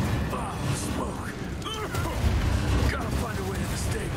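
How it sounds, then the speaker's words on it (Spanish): Video game combat in Evil West with muffled booms, bursts of gunfire and mechanical clanks, busy and fairly quiet throughout. "Ojo las explosiones."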